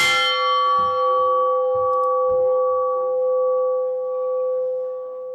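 A single strike of the church bell at St Matthew's Church, Nathia Gali, rings loud and near, its clear tone sustaining and slowly fading, with faint rhythmic knocks beneath.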